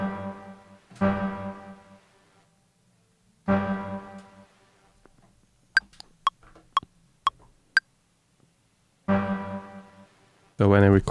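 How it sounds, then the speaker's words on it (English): Large room reverb program 4 on an Alesis Microverb III, with a few long decaying harmonic tones spaced apart alongside a run of short sharp clicks, tails ringing out into near silence between them. "this is the large room reverb and then on program number"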